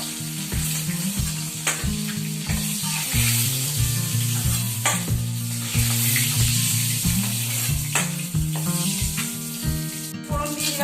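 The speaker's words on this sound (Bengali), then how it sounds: "খুব ভালো করে ডিমগুলো ভেজে নেব।" Eggs sizzle and crackle in hot oil, a loud, continuous frying hiss with a steady melodic backing underneath throughout.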